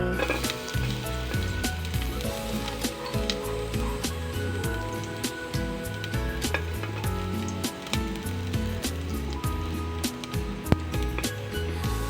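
Garlic frying in hot oil gives a constant crackling sizzle with scattered sharp pops, close and fairly loud throughout, over a low background hum with no voices.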